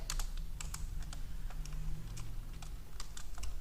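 Rapid keystrokes on a computer keyboard as names are entered into an MS Excel spreadsheet, a steady run of close, crisp clicks with no talking.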